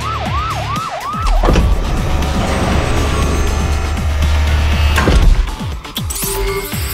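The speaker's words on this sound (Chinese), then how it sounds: "无畏的消防车" A cartoon fire truck opens with a rising and falling siren wail, then a loud roaring engine rush and whooshing effects take over, ending in a burst of bright sound effects.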